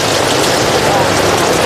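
Steady rain falling in Hanoi, a dense, even hiss that fills the whole moment without pause, close and loud, with a faint vehicle hum underneath and no clear voices.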